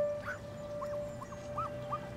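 Puppies give faint, high, short yips, a few scattered squeaky cries over a low steady background hum.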